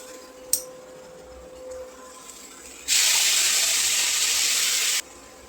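Spice mix hits hot fried onions in a pan, setting off a sudden loud sizzle that holds for about two seconds and then cuts off, preceded by a brief metallic clink.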